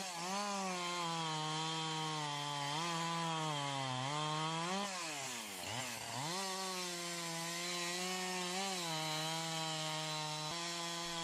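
A Husqvarna 372 XP chainsaw cuts a Grand fir with a loud, sustained buzzing drone, its pitch sagging and recovering as the chain bites, with one deep bog midway before it climbs back up.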